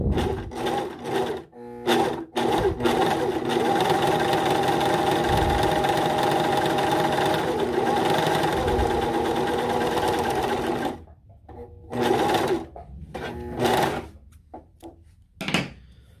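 A Singer S0235 overlock sewing machine stitches a four-thread test seam, running in a steady continuous whir for about ten seconds, then stopping into short bursts of stitching and brief pauses.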